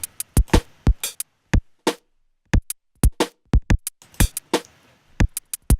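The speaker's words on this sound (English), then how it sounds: "And my drums sound like this just by themselves." A programmed drum beat plays alone in FL Studio, crisp punchy kicks, snares and hats in a steady repeating pattern with short gaps, loud and dry with no other instruments.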